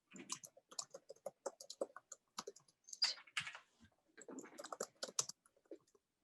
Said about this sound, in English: sorry, I'm just like typing this down.